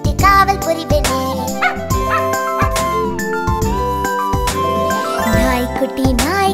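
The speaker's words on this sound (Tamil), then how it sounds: "லொல் லொல் சத்தம் போட்டு துரத்தி விடுவே நான்" A puppy barks and yips over a children's Tamil rhyme. The short bursts come loud and close, repeating in time with bright, melodic backing music.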